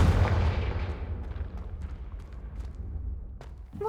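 A Confringo explosion spell goes off in Hogwarts Legacy as a heavy, close boom with a deep low rumble, then a long fading tail with faint scattered crackles.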